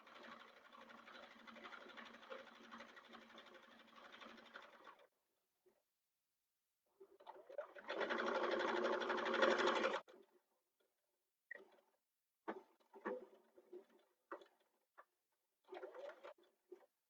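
A sewing machine stitches a seam on a sling bag in two bursts of rapid, even whirring, the second louder and closer, followed by scattered clicks and short bursts as the fabric is adjusted, with no talking.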